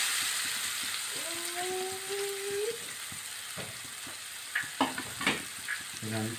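Sliced onion drops into oil left from frying fish and sizzles close and steady, with a brief whistling tone early on and then several sharp stirring scrapes and taps in the pan.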